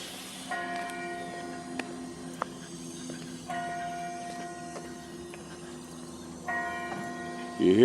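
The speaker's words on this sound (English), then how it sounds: "you hear those chimes of our Methodist church" Three separate bursts of Methodist church bell chimes ring out over a quiet outdoor scene, each phrase lasting a couple of seconds and fairly distant, with a few sharp clicks in between and a louder rustle at the very end.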